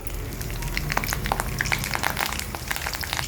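Two dry red chillies and curry leaves hit hot oil with garlic paste for a vegetarian Hyderabadi dalcha, giving a steady, close crackling sizzle with quick spitting pops throughout and no talking.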